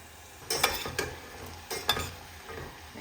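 Lokma dough balls frying in hot oil give a soft continuous bubbling hiss, broken by a few sharp bursts of sizzle and scraping as pieces drop in and are moved about.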